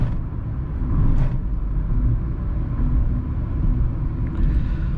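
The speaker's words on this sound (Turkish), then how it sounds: "Bu kötü kalitesiz asfaltta yol sesi bayağı bir rahatsız edici." Road noise inside a 2020 Renault Symbol 0.9 TCe sedan driving at highway speed over poor, rough asphalt: a loud, continuous low rumble and tire roar filling the cabin, with no talking.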